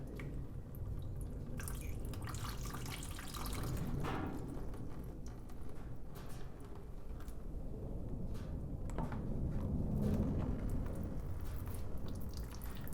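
Coolant trickles and drips steadily from a KTM dirt bike engine into a container, with splashy irregular patter and occasional louder splats, fairly quiet and close.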